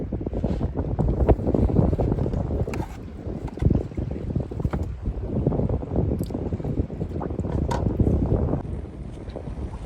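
Steady gusting wind buffets the microphone on open water during river fishing, with waves lapping against a boat, a constant loud broadband rush with no talking.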